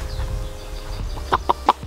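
Indoors, a nearby chicken clucks in three or four short, quick notes near the end after a quiet stretch.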